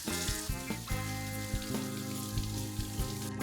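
Running water streams steadily over two English cucumbers being rinsed, a continuous splashing wash with brief dips where the produce shifts under the flow.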